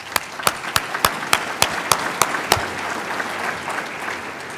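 Audience applause in a hall during a mayor's State of the City address, a run of sharp, separate claps at first that settles into a steady, dense wash of clapping.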